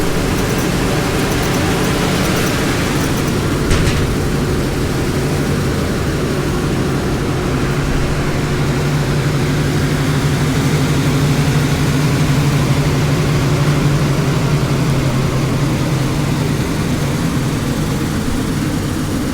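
A 2019 Felder FW 1102C 43-inch two-head wide belt sander running: a loud, constant machine drone with a low steady hum that holds unchanged for the whole stretch, no speech.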